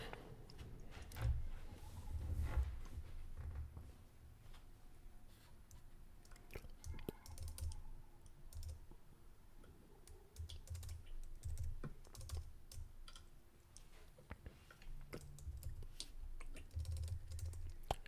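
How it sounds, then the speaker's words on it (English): Steady typing on a computer keyboard during a live stream, fairly quiet but continuous clattering keystrokes with brief pauses, no voices present. "Strong keyboard he's got there."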